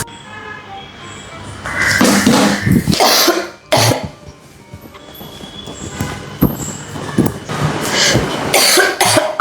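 A woman with a cold coughs in a series of loud, close, rasping bursts, pausing briefly between them, followed by lighter throat noises and faint background sounds.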